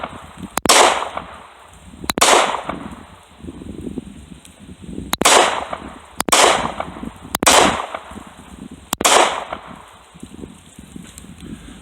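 Six loud, sharp pistol shots fired with a limply held weak-hand grip, spaced about one to two seconds apart, each crack followed by a brief ringing echo.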